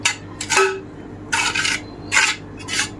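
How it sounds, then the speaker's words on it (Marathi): A spoon scrapes and spreads curd around the inside of a tray and a clay pot, making a few short, fairly loud scraping strokes with brief pauses between them and no talking. "ट्रेमध्येही आपण दही सगळीकडे पसरून घेऊ।"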